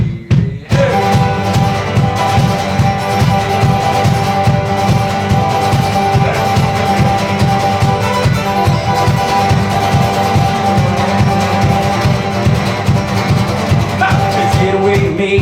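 A band plays a live bluegrass-style number about rock and roll at a concert, with dense, steady strummed and sung music filling the whole stretch at a loud, even level.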